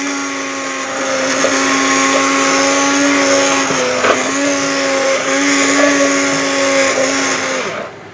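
An electric hand grinder churns cream in a bowl chilled over ice cubes for homemade vanilla ice cream, its motor letting out a loud, steady high whine that holds for about seven seconds before winding down at the end.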